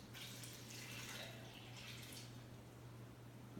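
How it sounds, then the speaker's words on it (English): Water, about two and a third cups, pours into a sourdough bread dough mixture with a close, steady splashing rush that fades toward the end, with a low hum underneath and no talking. "now we're going to add our water, which here again, this is 2 1/3 cups"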